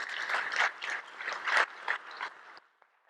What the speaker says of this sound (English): Now applaud.